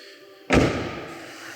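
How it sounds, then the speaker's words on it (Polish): A single car door shuts with a soft, muffled thud after a quiet moment, leaving a faint lingering hum. "Drzwi zamykają się leciutko jak w nowym aucie"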